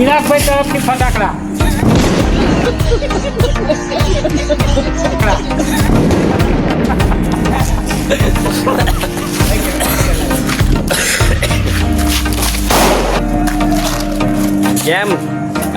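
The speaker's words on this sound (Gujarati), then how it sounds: "મજા આવે હા દિવાળીના ફટાકડા" Diwali firecrackers burst continuously and loudly, booms and crackling pops overlapping in a dense, sustained barrage with no pauses.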